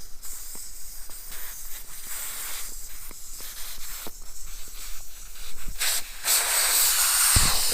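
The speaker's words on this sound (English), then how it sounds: "it'll pop out like that, and the tyre will deflate" Air hisses out of a car tyre after its valve core is unscrewed and pops free, a steady broadband rush that swells louder and harsher toward the end, heard close and alone without speech.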